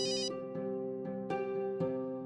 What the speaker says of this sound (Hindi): विजेंद्र का फोन